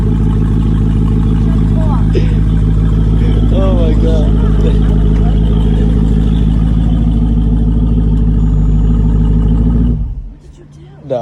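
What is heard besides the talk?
straight-piped 2020 SRT engine revving loudly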